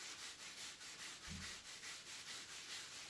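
A foot scrub is worked over skin in quick circular motions during a pedicure, producing soft, faint rhythmic rubbing swishes about four per second, close by, with no talk.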